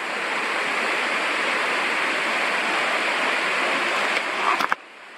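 Ocean waves crash and merge into a steady, loud roar of surf that stays constant for several seconds before a few faint knocks at the end.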